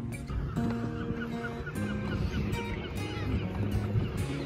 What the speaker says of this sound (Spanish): Miren, los pelícanos como están acá, las gaviotas, garumas